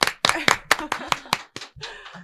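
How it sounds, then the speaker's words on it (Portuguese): Several sharp handclaps in an irregular burst during a podcast recording, close and moderately loud, with a little murmuring between them. "Palmas de novo!"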